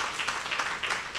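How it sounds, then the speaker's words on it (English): Audience at a scientific session applauding the presenters, a brief, fairly soft patter of many hands clapping, steady throughout. "Can we please give them a round of applause?"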